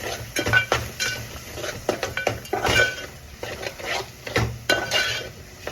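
A fish dish being stirred and mixed in a metal pot, with a utensil clinking and scraping against the sides in quick, irregular strokes, close up over a faint steady hum.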